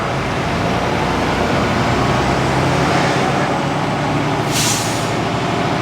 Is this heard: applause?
no